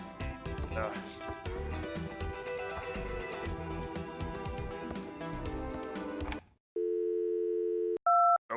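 Telephone dial tone from a phone during prank calls in the adventure game Thimbleweed Park, a flat steady tone entering after background music stops, followed by short higher beeps.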